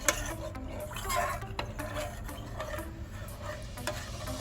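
A spoon stirs a fruit salad mixture in a pan, making quiet, irregular scraping and light tapping against the metal that continues throughout.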